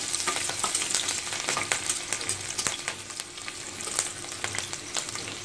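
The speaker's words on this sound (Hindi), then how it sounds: "थोड़ा इसे भून जाने दीजिए" Garlic and green chillies sizzle and crackle in hot oil, with busy popping and spattering throughout, close by and steady.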